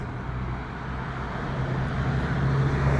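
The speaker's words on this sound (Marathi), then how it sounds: "हे बघा ही गाडी गेली" A car passes along a road in England, a steady broadband roar of tyres and engine that grows gradually louder over a few seconds, with no talking.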